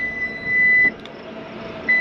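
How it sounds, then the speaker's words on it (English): A Ford F-150 Lightning frunk closes to a steady electronic tone: one long sustained beep, then a short beep returning at the end over a low hum. "Closing this, lots of beeps."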